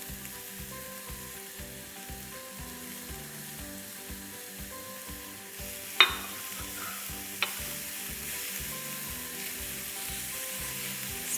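Chicken filling for crumb rolls is stirred and mixed in a pan, giving a steady, rhythmic scraping under a soft sizzle, with a couple of sharp clinks of the spoon against the pan near the end.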